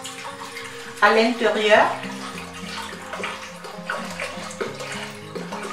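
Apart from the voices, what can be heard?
pouring 3 litres of water into a pot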